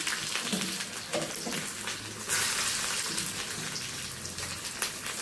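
Onions with mustard seeds and chillies frying in hot oil in a pan, a steady loud crackling sizzle throughout with a brief surge partway through, no talking.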